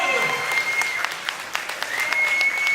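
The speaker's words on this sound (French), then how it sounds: "applaudissez-les très fort" Convention audience at a Paris manga and sci-fi show applauds two Stargate actors, a dense sustained wash of clapping from a large crowd indoors, steady and loud throughout.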